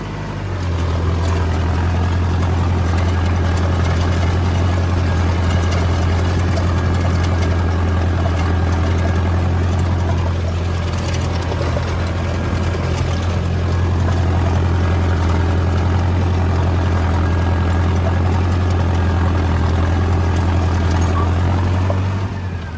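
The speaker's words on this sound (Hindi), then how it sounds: "अब मैं आपको दिखाता हूँ ट्रैक्टर कितना आरपीएम ड्रॉप करता है।" Tractor engine pulling a rotavator, set at 1600 RPM and then dropping under load, a loud, steady low diesel drone with a rough rumble that runs continuously and close, no voices.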